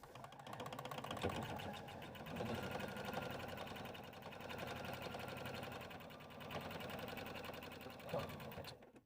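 A sewing machine runs steadily, stitching fabric pieces for a bag with a quarter-inch seam, its fast even motor chatter close and continuous for the whole stretch with only slight dips.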